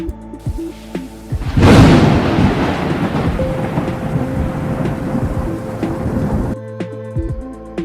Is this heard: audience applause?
no